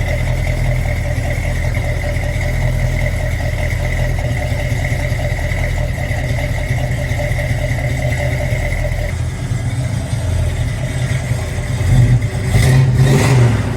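1973 Plymouth Barracuda with a 340 cubic-inch V8, heard from outside, holds a loud steady rumbling idle for several seconds, then a couple of revs rise near the end.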